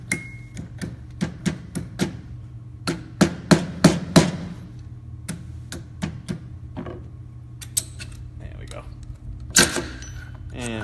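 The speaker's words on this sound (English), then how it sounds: "I like to use the plastic end on here to give it a good couple taps." The plastic end of a hammer taps on the handguard cap of a rifle, giving a run of sharp, close knocks, some in quick clusters and some spaced apart, over a low steady hum.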